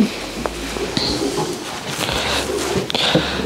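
Racing pigeons in a breeding loft coo low and throaty through a steady rustling background, with a few faint higher chirps and light knocks scattered across.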